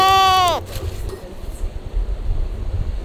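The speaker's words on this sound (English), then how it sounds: "Whoa, 2 goats." Goats bleating outdoors on a small Japanese island: one loud, wavering bleat opens the scene, then it fades into steady wind rumble and low background noise.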